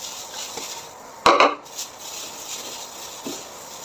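A pork and vegetable nugget mixture with carrots and potatoes is mixed in a bowl, giving one loud scraping clatter of utensil against bowl, followed by a few softer taps and rubs.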